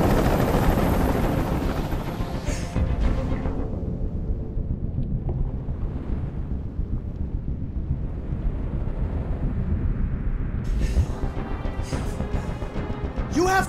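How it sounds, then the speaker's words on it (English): A helicopter from the video game Detroit: Become Human hovers overhead with a deep, continuous rotor rumble and wind-like roar, loud and sustained, with brief sharper sounds near the start and end. "Tell that helicopter to get out of here."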